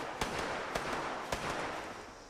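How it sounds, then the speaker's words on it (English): Gunfire rings out in the video game Fallout 76 near a river: three sharp, spaced shots over a steady noisy ambience, sounding somewhat distant, with no speech. "I hear gunshots already"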